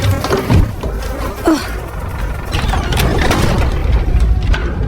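Flies buzz in a basement with a rotting smell in the horror film Deliverance, a loud, close, continuous droning hum with brief louder passes.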